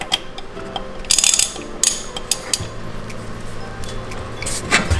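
A ratchet with an extension and T45 bit works the crank pulley bolts on a BMW E92 M3, giving close, repeated clicking pawl ratchets and metallic clatter in short bursts.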